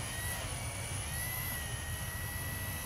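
A small Walkera V120D05 flybarless 3D RC helicopter flies with a steady, high-pitched motor whine and constant rotor hum, faint and continuous with no talk.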